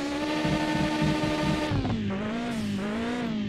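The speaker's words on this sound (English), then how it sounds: "there is too much backfire" A car with no exhaust fitted in the Mon Bazou driving game, its engine droning and revving loudly with crackling backfire pops as the pitch drops, continuous and close with no talking.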